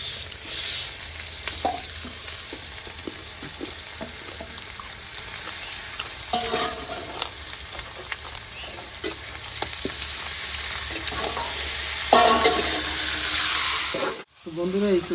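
Jackfruit curry, village-style kosha, cooked down with gravy in a pan, sizzles steadily under repeated spoon scrapes and stirs for about fifteen seconds, with a brief pause near the end.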